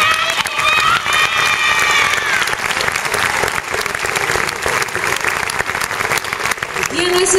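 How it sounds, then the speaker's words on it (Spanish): A crowd claps loudly and continuously for a dance troupe at a PortAventura theme park show, with some cheering and shouts mixed into the dense applause. "Ese fuerte aplauso al cuerpo de baile de PortAventura."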